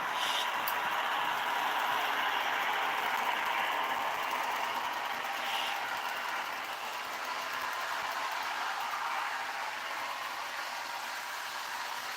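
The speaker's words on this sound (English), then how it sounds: "I'm going to open the throttle on this one, run it at full speed, and see what she's got" A model BN diesel train running at full throttle gives a steady, loud whirring motor hum with a bright mechanical buzz, continuous and unbroken with no talk.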